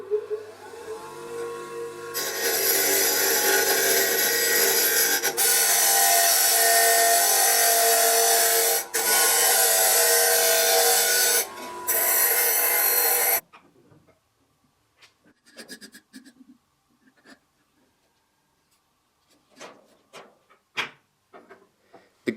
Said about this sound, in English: I headed over to the grinder to put a point on the other end.